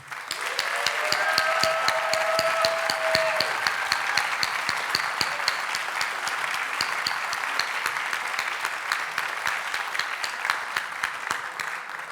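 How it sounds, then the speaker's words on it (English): A gala crowd at a national art prize awards ceremony gives the artists a long round of applause, steady clapping with a sharp repeating click throughout and a brief tonal sound early on. "we should give a big round of applause to the artists and to everyone involved"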